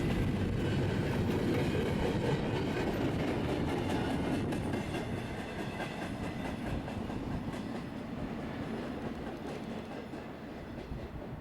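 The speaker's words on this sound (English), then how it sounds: "We would bid this train farewell as it left" A freight train rumbles past in a long, steady roll, with rhythmic clacking of wheels over rails, sustained and fairly close throughout, in northeast Ohio.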